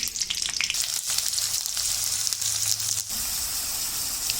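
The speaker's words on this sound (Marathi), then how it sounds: "आता यामध्ये मी कांदा आणि मिरची पण फ्राय करून घेईन." Onion and green chillies frying in a pan with curry leaves, a loud, continuous sizzle with crackling spits and a few stirring scrapes, close up and without talk.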